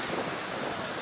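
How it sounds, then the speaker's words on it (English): Wind blows steadily across the microphone on a Bali holiday outing, a constant broadband rush with no voices over it. "oh, the wind's getting up"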